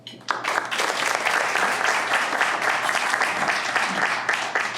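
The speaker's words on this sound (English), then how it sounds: "So they deserve a round of applause." Luncheon guests at a state representatives event break into applause after a brief pause, a full, sustained round of crowd clapping that carries on evenly.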